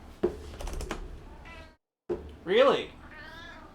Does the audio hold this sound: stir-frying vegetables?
no